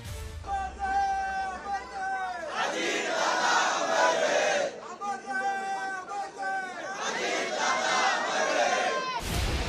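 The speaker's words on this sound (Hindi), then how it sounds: "अस्पताल के बाहर रोते बिलखते उनके कार्यकर्ताओं की ये भीड़" Crowd of Ajit Pawar's supporters outside the hospital in Baramati, a dense mass of voices rising in loud wailing and shouted cries, surging in repeated waves.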